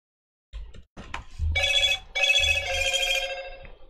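A mobile phone rings loudly and close by, sounding two long trilling bursts after a few soft handling bumps.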